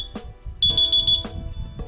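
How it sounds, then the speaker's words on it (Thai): A high-pitched electronic ringtone beeps in short repeated bursts, fairly loud and close, with faint background noise between bursts. "ตอนนี้มันก็จะไปดังที่ตัว มือถือของเรานะครับ"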